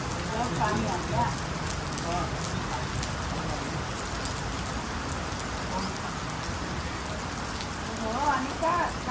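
Rain falls steadily outdoors, a dense, even patter and hiss of drops on surfaces, with voices speaking faintly beneath it at times.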